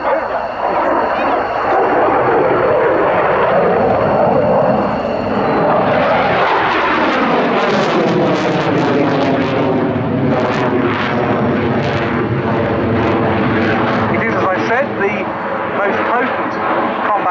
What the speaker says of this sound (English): The aircraft comes from the 211th Tactical Squadron of the Czech Air Force